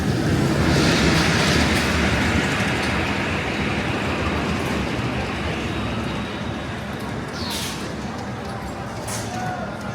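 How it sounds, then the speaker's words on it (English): A Santa Cruz Beach Boardwalk train rumbles past nearby, a loud steady roar of wheels and rolling stock filling the whole stretch and easing slightly toward the end. "That train looks really interesting."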